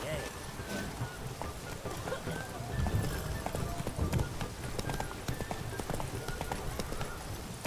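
Horse hooves clip-clopping steadily in the Witcher 3 video game, a continuous rhythmic trot running the whole time over a busy background of game sounds, with a voice speaking over it.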